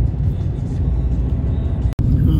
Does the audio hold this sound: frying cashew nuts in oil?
no